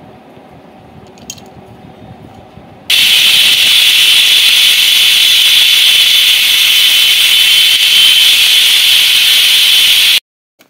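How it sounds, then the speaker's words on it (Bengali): Kitchen mixer grinding tomatoes, green chilies, cashews and raisins into a paste, a loud steady whirring drone that starts abruptly after a quiet lead-in and cuts off sharply about seven seconds later. "এখানে নিয়ে নিলাম টমেটো, কাঁচা লঙ্কা, কাজু বাদাম, কিশমিশ, যা আমি এখন এগুলিকে পেস্ট করে নিয়ে নেব।"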